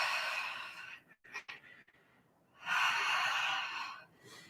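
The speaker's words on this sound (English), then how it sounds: "and breathe." Breathing during a slow hip-opening yoga flow: a long steady breath, a few short catches, a quiet pause, then another long audible exhale, close and clear with no talking.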